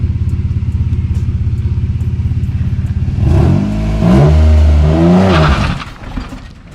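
A Nissan 350Z engine idles with a steady low throb, then revs hard and climbs in pitch as the car does donuts, loud and close, before easing off at the end.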